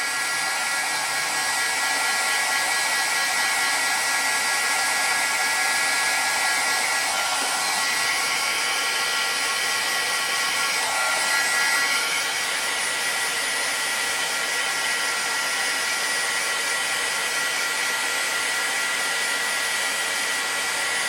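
A hair dryer blowing hot air to dry ink quickly on paper, a loud continuous whooshing roar that holds steady for about twenty seconds with no voices.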